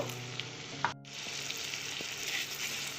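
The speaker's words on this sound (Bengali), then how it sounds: "জল দিয়ে সব মশলা খুব ভালো করে কষিয়ে নেব" Spices with salt, turmeric, coriander powder and chilli powder plus a little water sizzle and stir-fry in a pan for a fish-bone chorchori, a steady close frying hiss with a few scraping stirs and a brief dip mid-way.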